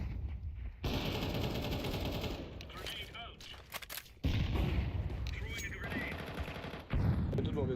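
Gunfire in a shooter video game, heavy continuous bursts of automatic fire with a short pause before a second loud stretch, mixed with faint talk from a player.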